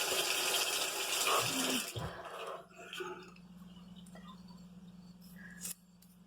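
A bathroom tap runs steadily with a loud hissing splash, then the flow drops to a quieter trickle with faint drips and a brief clink near the end.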